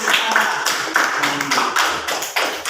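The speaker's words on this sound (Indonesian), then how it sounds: "Ayo tepuk tangan teman-teman." Classmates in a school classroom clap their hands together, a steady close patter of many overlapping claps with a few sharper accents, loud and without talk.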